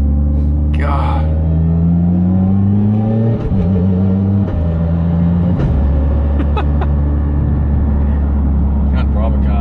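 Engine of a Mitsubishi Evo 10 street car with a paddle-shift gearbox, droning loud and steady from start to finish with pitch steps as it shifts, under people talking.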